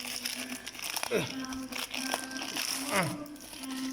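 Plastic packaging from an online order of ring spanners being torn and crinkled open by hand, a run of close crackling rustles with a couple of sharper rips, and a steady background hum underneath.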